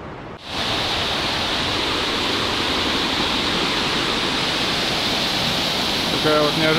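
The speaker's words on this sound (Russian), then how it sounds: "Приближаюсь к водопаду, и тут понимаю, что здесь очень высоко." A mountain waterfall in Kintrishi National Park roars in a loud, steady, broadband rush that starts abruptly and holds unbroken, close at hand.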